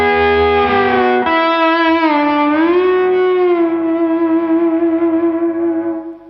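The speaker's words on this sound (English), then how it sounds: "You can really turn the drive, like crank the drive." A pedal steel guitar played through an overdrive pedal with the drive cranked sustains a thick, distorted note that slides up and then rings steadily before fading at the end, heard alone.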